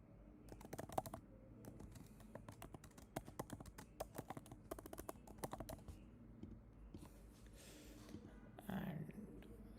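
Keys clatter on a computer keyboard in irregular bursts of quick clicks while someone writes a heading, fairly close and clear against a quiet room with faint background noise.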